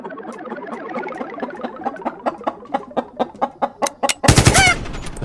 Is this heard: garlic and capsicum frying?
no